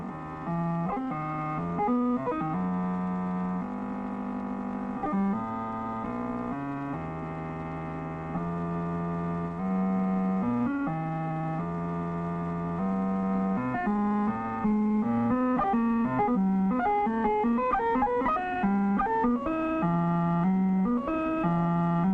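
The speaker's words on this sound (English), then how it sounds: "we will hear sounds which are an actual product of a huge calculator" Audible tones from a huge 1950s calculating machine form a steady hum of shifting electronic pitches, with sustained notes giving way to quicker, jumping blips toward the end, continuous and without voices.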